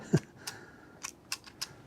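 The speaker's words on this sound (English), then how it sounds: "a sharp pair of scissors would be better, but this is all I've got here" Sharp scissors snipping while trimming garden plants, several separate crisp clicks spaced irregularly, close and fairly quiet against a faint outdoor background.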